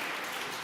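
Audience clapping at an anti-Trump town hall, a brief dense patter of many hands, steady and close.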